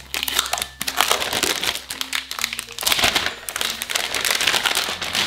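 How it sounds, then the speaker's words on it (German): Protective film being peeled off a new HP Spectre x360 13-inch laptop, a close, continuous crinkling and crackling plastic sound with sharp bursts throughout, no talk. "als erstes werden wir die Folie entfernen"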